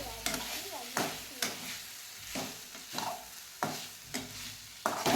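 Tomatoes sauté in a hot pan for a hotel-style potato masala served with poori, as a spoon stirs and scrapes in a regular rhythm over a soft sizzle, with a quiet voice at times underneath.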